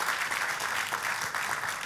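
A church congregation applauds during a sermon, steady dense clapping filling the room without pause.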